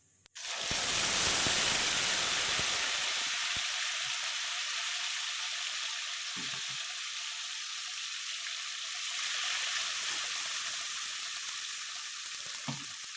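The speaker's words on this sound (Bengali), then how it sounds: "এরপরে আমি টমেটো বেটে রেখেছিলাম যেটা, দুটো কাঁচা লঙ্কার সঙ্গে, সেটা দিয়ে দেবো" Tomato paste ground with green chillies hits hot oil in a pan with a sudden loud sizzle, then settles into a steady, close frying hiss that swells again slightly near the end.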